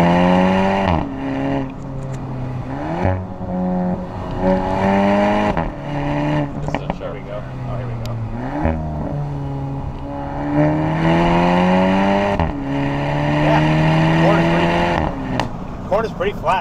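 2023 Volkswagen Golf GTI 40th Anniversary Edition accelerating hard on an open road, the engine climbing through repeated rising revs with sharp drops at each gear change, loud inside the cabin while people talk over it.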